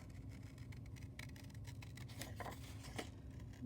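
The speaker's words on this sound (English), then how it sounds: "you're just gonna take your scissors and you're just gonna carefully cut around" Scissors snip slowly through a paper pumpkin cutout in a fourth grade art lesson, faint short crunching cuts over a steady low background hum.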